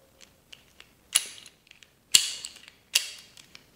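A door handle latch rubs and clicks against a hardened steel strike plate as it turns, giving a few sharp, close metallic clicks and short scrapes separated by quiet gaps.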